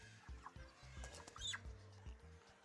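A chicken on a school poultry farm clucks repeatedly while being held, soft rhythmic low clucks with a few brief higher squawks and rustling, close by.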